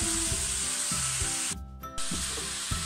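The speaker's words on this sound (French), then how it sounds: "vous remuez bien pour bien imprégner l'huile de partout" Vegetables are stirred in oil in a pan, a close, bright sizzle with spoon scrapes that drops away briefly in the middle before the frying hiss returns.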